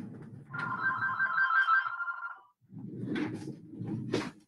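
A telephone rings indoors, one sustained electronic ring burst followed by a pause, with soft rustling and handling noises around it and no speech.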